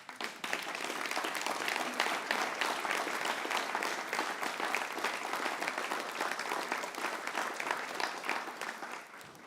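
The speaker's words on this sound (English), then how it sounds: "take a round of applause" A crowd at a museum education center's grand opening gives sustained, even applause for the volunteers and staff, a dense, loud wash of many hands clapping without pause before it tapers at the very end.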